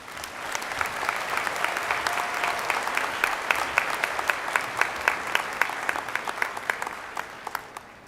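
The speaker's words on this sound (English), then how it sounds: "Please join me in applauding the graduates from the University of Arkansas Fayetteville College of Engineering." Commencement crowd applauding University of Arkansas engineering graduates: sustained dense clapping filling a large hall, with sharper individual claps standing out near the end as it thins.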